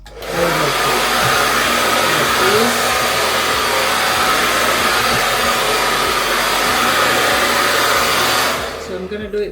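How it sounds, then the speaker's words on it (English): A handheld hair dryer fitted with a diffuser blows steadily on medium heat, a loud, continuous whooshing roar that runs unbroken and close before cutting off near the end. "This is my hair diffuser. So I'm gonna just turn it on to a medium heat"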